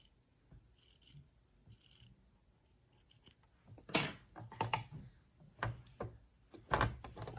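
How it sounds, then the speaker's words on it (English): Scissors trimming quilting fabric to a quarter-inch seam on a placemat, several short crisp snips and rasping cuts, near and quiet, with pauses between strokes. "we're going to just trim so we have our 1/4 of an inch seam"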